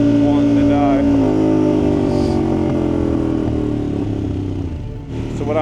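A struggling Harley-Davidson motorcycle engine holds a loud, revved, rumbling drone close by, then sags slightly near the end.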